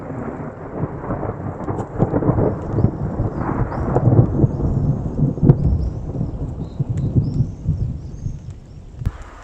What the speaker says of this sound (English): It's really thundering now, and there's some lightning about as well.